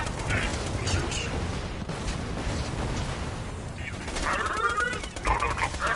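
Seeker missiles launching in Borderlands 2 amid steady rapid gunfire and mechanical clatter, with whooshing streaks toward the end and a robotic voice speaking over the fight.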